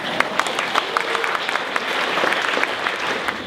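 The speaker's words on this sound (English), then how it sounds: "Give yourselves a clap." Audience applause at a Gumbaynggirr storybook launch gathering, with a steady wash of clapping and distinct individual claps standing out, lasting a few seconds at moderate volume without talk.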